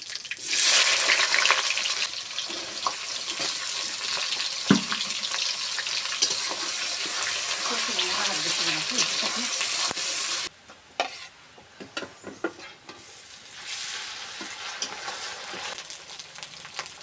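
A bay leaf and chopped onion fry in a pan with a loud, dense sizzle and stirring for about ten seconds, then the sound drops to quieter scattered clinks and a softer hiss.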